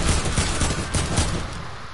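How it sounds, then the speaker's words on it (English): Rapid bursts of SMG fire in a video game, loud and close, rattling in quick clusters across two seconds with no voices over them. "Use that burst SMG, yo."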